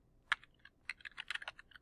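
Someone types on a computer keyboard in a quick, irregular burst of crisp key clicks, close and fairly clear, with one isolated keystroke before the main flurry and no talking.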